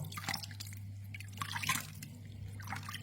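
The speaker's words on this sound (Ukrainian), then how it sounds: "Такий собі гейзер тут утворюється з теплої води. Система опалення. Витік." Warm water leaking from a cracked bend in a home heating system, a faint steady dripping and trickling over a constant low hum, with small splashes scattered throughout.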